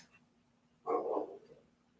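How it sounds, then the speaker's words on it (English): A single dog bark rings out once from a short distance, moderately loud against a quiet background, with no talking around it. "Yep, she's going to bark."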